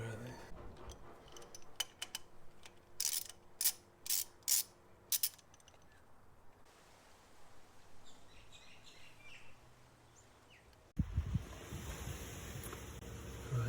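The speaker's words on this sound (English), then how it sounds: "I think these are the coils, there's 4 of them, so loosen all those off" Ratchet loosening ignition coil bolts on a Toyota Tarago engine, bursts of quick clicking in the first half followed by quieter mechanical handling and background noise.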